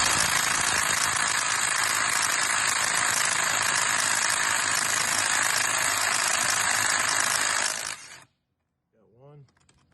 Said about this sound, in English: Maybe my drill will take them off, maybe it won't.